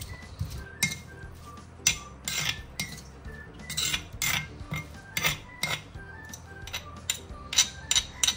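Spices are coarsely ground by hand for Minang dendeng batokok, producing a steady series of sharp knocks and scraping clinks in an irregular rhythm, close and moderately loud, with no talking.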